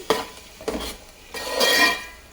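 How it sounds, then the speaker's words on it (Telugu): Spice paste and onion being fried in a pan for a Bhimavaram-style fish curry: a few close clinks and scrapes of a spoon stirring against the pan, then a longer scraping stir over a light sizzle. "ఇప్పుడైతే ఈ పేస్ట్ కూడా వేసి ఈ ఆనియన్ కూడా పచ్చి వాసన స్మెల్ పోయేంత వరకు వేగించుకోవాలి"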